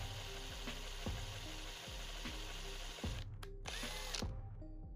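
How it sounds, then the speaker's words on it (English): A power drill whirs in repeated short bursts with a ratcheting, clicking rhythm, close by, drilling into a Hot Wheels die-cast toy car, with no voices. "and then drill in a little bit deeper."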